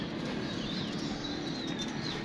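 A pigeon flapping its wings up close, a continuous dense fluttering rustle held at an even level throughout, with no voices.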